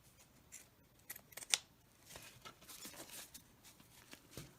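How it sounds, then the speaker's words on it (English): Scissors snip through scrap fabric in a series of quick, soft cuts, close and fairly quiet, with light rustling of the cloth between snips. "so I'm going to cut that off"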